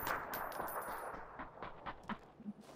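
Distant gunfire in a squad battle-royale shooter game, sounding as a scattered series of faint, sharp pops and bursts in a quiet stretch with no talk.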